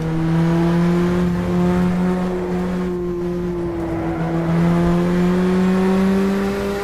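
A race car engine in the rFactor racing game holds a steady, loud, droning tone as the throttle is worked through corners on the 2012 Belgian Grand Prix circuit, with no talk over it.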